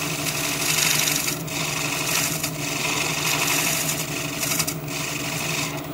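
A wood lathe turns a bowl as a 3/8 gouge cuts into a corner, giving a continuous whirring, rasping hiss with slight rhythmic swells and brief dips, close and fairly loud.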